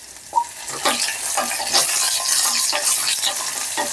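Red chillies fry and get stirred in a pan for a tomato chutney, with a constant sizzle broken by repeated scraping strokes of a utensil at a steady rhythm, loud and close.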